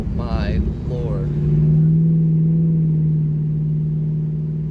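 A New Edge Ford Mustang GT fitted with a Borla Atak exhaust pulls away, its deep droning rumble swelling and holding steady, while a person talks briefly over the start.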